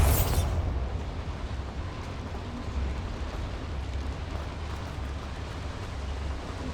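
A Bombarda spell explosion in Hogwarts Legacy, a sharp bright blast at the start that gives way to a long, low rumbling roar of debris, loud and sustained.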